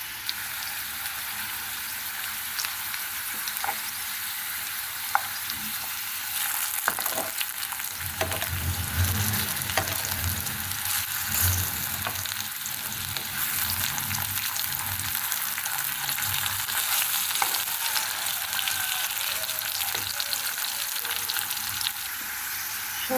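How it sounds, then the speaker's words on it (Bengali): Potatoes coated in salt and turmeric frying in hot oil, a constant close sizzle with occasional spattering pops and stirring clatter, louder in the middle stretch. "আলুটাকে পরিষ্কার করে ধুয়ে লবণ হলুদ দিয়ে মেখে ভেজে নিচ্ছি"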